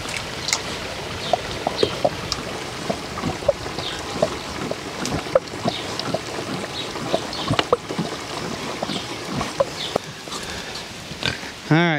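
Pigs on a muddy homestead grunt and snuffle in short repeated bursts close by, mixed with splashing and wet rooting sounds, ending with a brief squeal.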